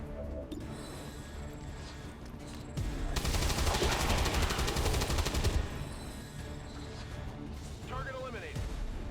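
Burst of rapid automatic gunfire from the tactical game Long War 2, a dense roughly three-second volley rising loud in the middle of the stretch, with someone talking before and after.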